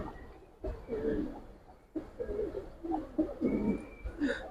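Giribaz and silver Bagha pigeons coo in soft, low, repeated throaty calls, close by, overlapping one another in a steady murmur.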